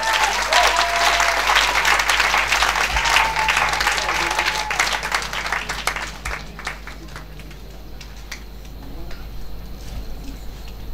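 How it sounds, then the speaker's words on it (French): A seated audience at an evening round-table panel applauds a newly introduced panelist, a broad, loud wash of many hands clapping that thins out and fades to scattered claps after about six seconds. "Applaudissez pour elle."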